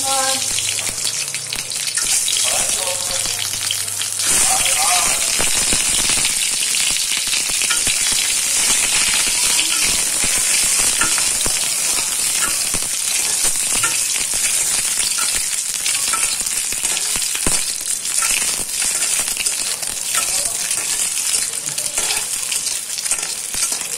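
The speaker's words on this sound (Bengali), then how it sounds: "ডিমটা ভাজতে গিয়েও অনেক ফুটছে, মানে এরকমভাবে খিচছে," An egg frying in hot oil during home cooking of dal with egg and potato, sizzling and spluttering loudly and steadily throughout, with crackling bursts and no talk over it.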